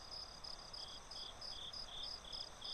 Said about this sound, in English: the gentle song of the crickets